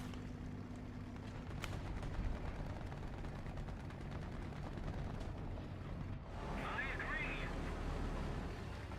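Machine gun fire in the tank game War Thunder comes as rapid bursts over a constant rumbling engine and battle noise, with a voice speaking over the action.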